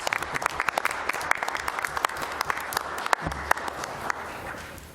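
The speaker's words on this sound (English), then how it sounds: "Round of applause for all the nominees." Applause for nominees at a city council meeting fills the room, a moderately loud patter of many hands with crisp individual claps standing out, continuing steadily without speech.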